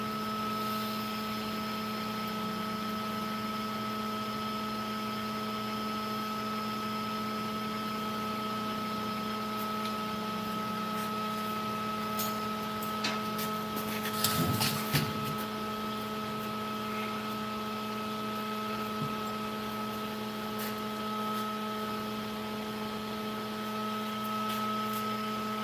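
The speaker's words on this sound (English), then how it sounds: "That's the airflow for my forge. That weird whirring sound." Air blower feeding a blacksmith's forge, a steady whirring hum with constant tones that runs unchanged throughout, with a brief clatter midway.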